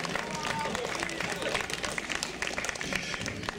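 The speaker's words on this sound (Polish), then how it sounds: "I powitajmy oklaskami oba zespoły, które w tej właśnie chwili wychodzą na płytę stadionu" Stadium crowd applauding as two football teams, Nielba Wągrowiec and Włocłavia Włocławek, walk onto the pitch, a steady dense wash of clapping and cheering that holds loud throughout, with the announcer's voice carrying over it.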